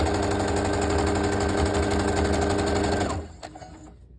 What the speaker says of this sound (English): then I can keep sewing into my square